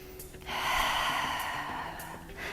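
Heavy, effortful breathing during a standing lower-body strength and back mobility workout, a sustained forceful exhale or snort-like breath lasting about two seconds, close and fairly loud with no talk.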